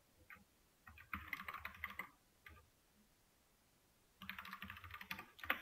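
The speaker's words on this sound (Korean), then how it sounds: "제가 방금 타이핑을 했던 것처럼" Fast clattering keystrokes on a computer keyboard come in two bursts with a pause between them, close and moderately loud with no talking.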